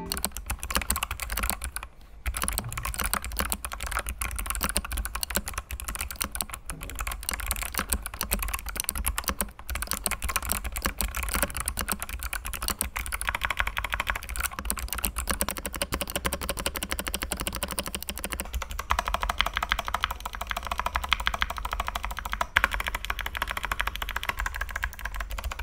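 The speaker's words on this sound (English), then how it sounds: "The Kyle box blues sound really very crispy, and the keyboard feels very sturdy." Rapid, steady typing on a mechanical keyboard with Kailh Box Blue switches and a sturdy build, its crisp clicky keystrokes running close and continuous throughout with no talking.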